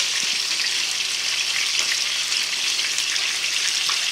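Butter sizzles loudly and continuously around a sirloin steak in a frying pan, a dense close crackling hiss with no talk.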